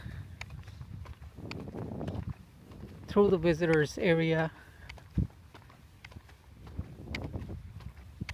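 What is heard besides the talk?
horses walking, hooves clip-clopping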